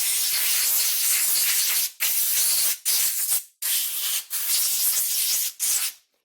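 Aerosol cleaner sprayed onto parts of a Milwaukee circular saw, a close, loud hissing spray in about six bursts of roughly a second each, separated by brief gaps.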